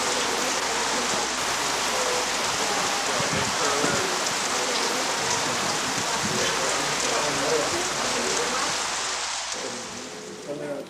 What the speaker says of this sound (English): enjoying the sound of the rain on the rice leaves